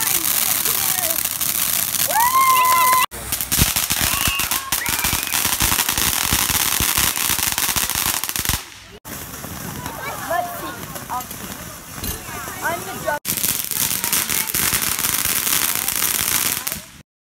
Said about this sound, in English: so we are currently doing fireworks